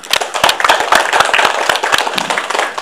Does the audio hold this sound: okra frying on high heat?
no